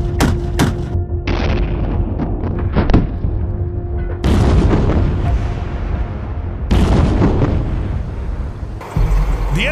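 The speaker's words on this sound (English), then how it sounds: "Meet the new M230LF, America's 30mm chain gun system." An M230LF 30mm chain gun fires in loud, heavy bursts of booming shots that roll and echo outdoors, with several sustained volleys separated by short gaps.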